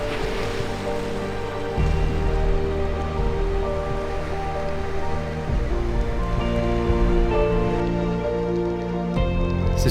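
An intense rain shower in Iceland, a steady hiss of heavy rain over a loud droning rumble, joined by sustained tonal humming layers that shift and restart.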